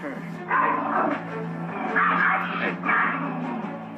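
A close, agitated dog gives a few sharp, high barks and yips with whining tones. They come in uneven bursts during a tense encounter with another dog.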